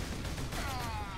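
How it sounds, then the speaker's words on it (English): Bolter rifle from Warhammer 40K Space Marine firing explosive-tipped rounds in a dense, continuous burst of gunfire under game noise, with a rising whine near the end. "Bolter is the characteristic Space Marine battle rifle, firing self-propelled explosive tipped rounds"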